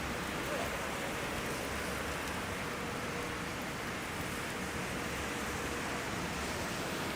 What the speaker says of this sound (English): it is a torrential downpour right now